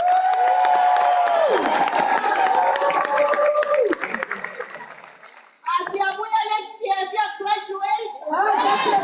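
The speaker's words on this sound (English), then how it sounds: "Let's give them another round of applause." An audience at a spring graduation ceremony claps and cheers for graduates, a dense patter of many hands filling the hall, with shouts and whoops rising over it and a voice speaking through part of it.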